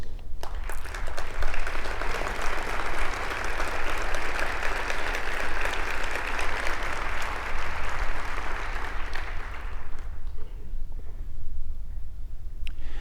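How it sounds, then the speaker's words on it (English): At the Weinberg Foundation annual community gathering, a large audience gives a loud, sustained round of dense clapping that holds for about ten seconds before dying down, leaving scattered faint claps. "we ask these nice folks to please stand up to be recognized with a round of applause"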